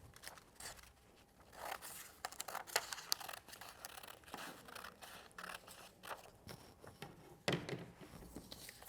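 Scissors cutting through an A4 paper sheet for a craft, a quiet series of crisp snips and rustling paper scrapes in an irregular rhythm, close by and with no voices.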